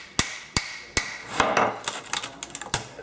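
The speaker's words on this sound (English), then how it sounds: "Now let's try the hammer." A hammer bangs on a laptop to pry off its broken screen, giving four sharp, loud blows spaced about half a second apart, then a cluster of smaller cracking and rattling knocks as parts give way.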